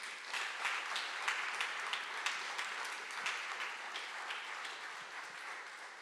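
An audience at an innovation award ceremony applauds continuously, a dense wash of many hands clapping at moderate distance that holds steady and fades slightly toward the end.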